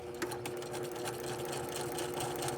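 A sewing machine back stitching along a convertible collar edge with a quarter-inch seam, a close, steady mechanical whirr of rapid needle strokes running without pause.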